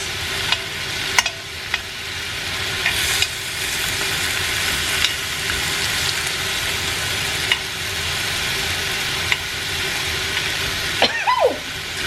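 Meat sears in a hot pan with a continuous, even sizzle and a few sharp clicks of utensils; a short whistle-like tone comes near the end.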